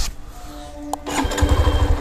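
A Hero Xtreme 125R motorcycle cranks close by with a whirring starter and a short burst of uneven, churning engine pulses that never settles into a steady idle.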